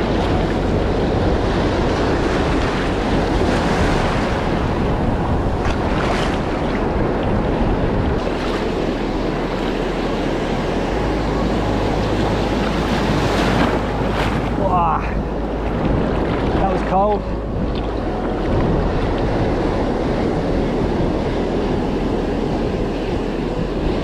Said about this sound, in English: This swell's so confused.